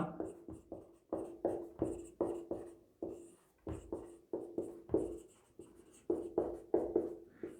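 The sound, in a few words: writing on a board or paper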